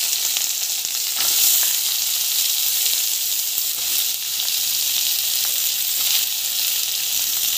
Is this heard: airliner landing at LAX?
no